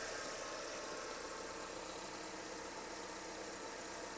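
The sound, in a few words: 1993 Proton 1.5 SE Aeroback car engine idling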